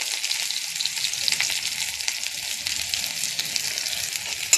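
Garlic and black cumin seeds fry in hot oil in a pan, giving a loud, continuous, crackling sizzle with small pops throughout.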